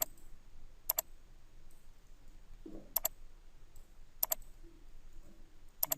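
Sharp computer mouse clicks come in crisp pairs and singles at a steady, unhurried pace while vector curves are drawn, close and distinct over a quiet room.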